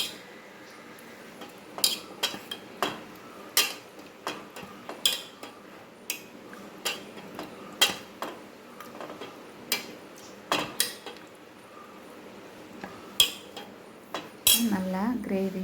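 A spoon stirs prawn gravy with coriander leaves in a pan, giving sharp metallic clinks at an irregular, unhurried rhythm over a quiet background.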